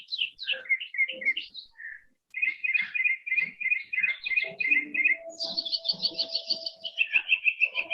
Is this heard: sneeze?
no